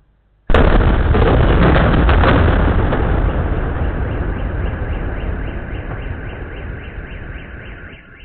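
A drone-attack explosion in Pskov: a sudden, very loud blast breaks out of near silence, then a long, dense roar holds for several seconds and slowly fades.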